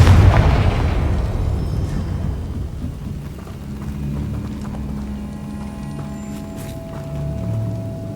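A fiery Confringo spell explodes in Hogwarts Legacy with a heavy, thunderous boom up close, then a sustained low rumble that slowly settles over several seconds.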